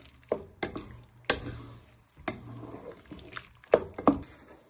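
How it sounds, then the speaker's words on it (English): A spoon stirs smoky jollof rice in a pan, producing irregular scraping knocks and wet shuffling sounds against the pan bottom, close and moderately loud with quiet gaps between strokes. "Just give that a stir so everything doesn't stick to the bottom of the pan"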